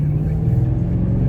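A Toyota Tundra fitted with a TRD PRO intake airflow accelerator accelerates, its engine giving a loud, close, steady low drone throughout the short burst.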